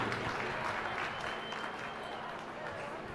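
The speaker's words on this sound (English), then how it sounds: "Let's have a round of applause for all of our beef heifer exhibitors." Applause from a livestock show audience for beef heifer exhibitors, a steady, moderately distant patter of clapping that persists evenly with faint voices mixed in.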